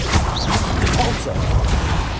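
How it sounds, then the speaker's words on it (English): Repulso spell being cast in Hogwarts Legacy, a burst of magical whooshing force with thuds and crashing impacts, while a voice calls out spell names over the loud game effects. "Repulso!"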